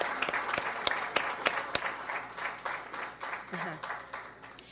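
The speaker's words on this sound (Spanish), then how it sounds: "Les agradezco si les damos la más cordial bienvenida con un fuerte aplauso." An audience at a social forum panel on migration and social struggles bursts into steady, sustained applause to welcome the speakers, a dense patter of many hands clapping at moderate distance, fairly quiet overall.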